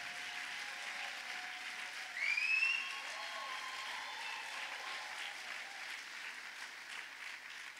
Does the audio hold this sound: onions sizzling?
no